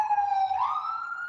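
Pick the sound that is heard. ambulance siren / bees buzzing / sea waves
ambulance siren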